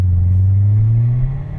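Corvette Z06 engine pulling hard on the Las Vegas Motor Speedway track, a loud, close, steady low rumble with a rising pitch as the car accelerates, and no voices.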